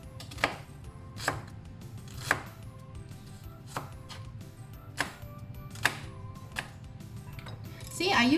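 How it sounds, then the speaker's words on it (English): A knife chops small onions on a cutting board in a steady series of sharp, evenly spaced knocks, about ten in all, fairly close against a quiet room. "So let's also chop up"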